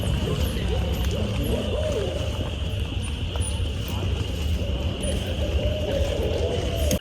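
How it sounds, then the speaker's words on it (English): A barred owl calls in woodland during nighttime herping for salamanders in Ohio, its hoots faint and distant beneath steady insect and frog chorus noise. "What you're hearing there is a barred owl calling."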